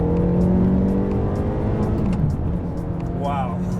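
A gated manual Ferrari F430 engine roars loudly and steadily, with a brief rising rev near the end, under continuous talking throughout.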